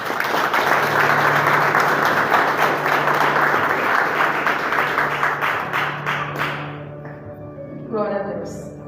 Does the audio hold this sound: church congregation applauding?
yes